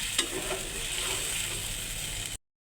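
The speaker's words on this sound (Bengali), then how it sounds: "যতক্ষণ তেল না বের হচ্ছে ততক্ষণ কষাতে থাকবো মশলাটা ভালোভাবে কষিয়ে নেব" A ground spice paste with a splash of water is stir-fried in a pan for a chicken curry, giving a close sizzle with rhythmic scraping and clicking of the spatula before an abrupt cutoff to silence.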